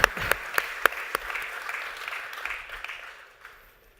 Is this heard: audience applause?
yes